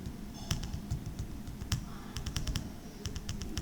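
Keystrokes on a computer keyboard while entering a custom field name in an Excel spreadsheet, a steady run of light, close clicks in irregular bursts with brief pauses, no talking.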